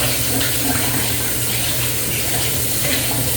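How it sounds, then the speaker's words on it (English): Water runs steadily from a kitchen tap as tomatoes are washed before cooking a Cameroonian dish, a continuous close splashing hiss with no talking. "You want to make sure you wash everything."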